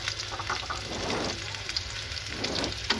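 Hotdogs and onions fry in a pan for spaghetti, giving a steady close sizzle with bursts of louder crackling and faint stirring.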